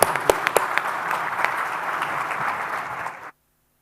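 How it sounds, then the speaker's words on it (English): Audience applause at a sustainability summit for south-east Europe and the Mediterranean, a dense steady clapping that fills the room for about three seconds with a few sharper claps up front, then stops abruptly into silence. "A big round of applause."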